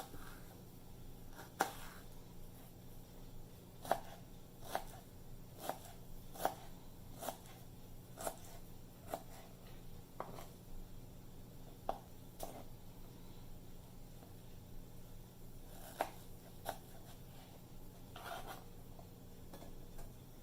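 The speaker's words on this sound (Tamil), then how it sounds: "இப்போ நல்லா குட்டி குட்டியாக ஸ்லைஸ் பண்ணிடலாம்" Raw mango, already peeled, sliced into small pieces by hand, giving faint, sparse knife taps and cuts against a board over a quiet room background, with no talking.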